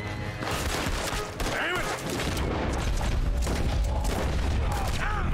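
Rapid gunfire bursts from Red Dead Redemption, a modded story replay, crack out in dense volleys with booming hits and clanking mechanisms across the whole stretch, loud and close.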